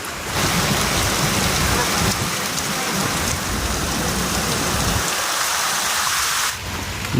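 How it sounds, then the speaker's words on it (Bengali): Heavy rain pours during a thunderstorm outside a house gate, a loud, dense, continuous roar of falling water that eases slightly toward the end. "প্রচণ্ড ঝড়ও দিচ্ছে খালি দেখো জোরে কতটা বৃষ্টি হচ্ছে"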